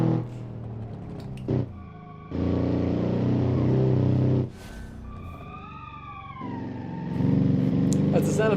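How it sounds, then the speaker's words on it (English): A boxer-engined car in a racing video game drones and revs in bursts with gear-change pauses, a rough boxer rumble, while someone talks over parts of it. "That's the sound of a good Boxer, John."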